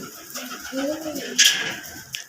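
Pigeons in a loft coo softly in low, rolling calls, with a brief sharper bird sound partway through.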